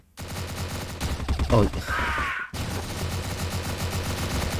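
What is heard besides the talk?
M16 gunfire in the video game CrossFire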